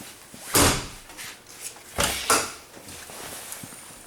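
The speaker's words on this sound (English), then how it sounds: "By the way, these are slam latch baggage doors." Slam-latch baggage compartment doors on a 2015 Thor Challenger 37 LX motor home shut with two sharp, loud latching thumps about a second and a half apart, followed by fainter clicks and rattles.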